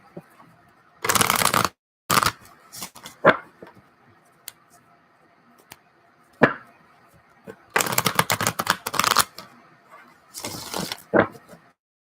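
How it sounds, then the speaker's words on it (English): Tarot cards are shuffled in several quick riffling bursts, close and crisp, separated by short pauses and occasional soft taps. "More shuffle."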